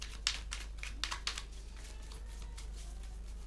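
Cards being shuffled close by, a quick burst of papery snaps and riffles early on, followed by softer, sparse flicks.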